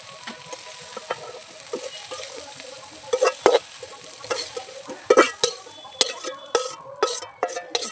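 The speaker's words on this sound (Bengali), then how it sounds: "কিশমিশটা কারণ ফুলে উঠবে এই তেলের মধ্যে ভাজা করলে" Cashews and raisins frying in oil crackle with a low steady sizzle, while a utensil stirs and taps sharply against the pan in irregular bursts that grow busier toward the end.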